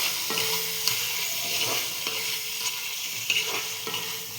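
Eggs sautéed in spiced masala for dim kosa sizzle in a pan while a spatula scrapes and stirs in repeated strokes, close and steady with no voices.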